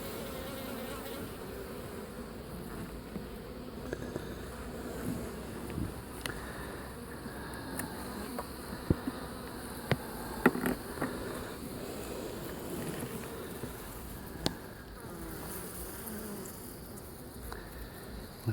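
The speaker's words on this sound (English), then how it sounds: "lots and lots of bees." A dense, steady buzz of many honeybees around an open hive during a brood frame inspection, close and continuous, with occasional louder passes of individual bees near the listener.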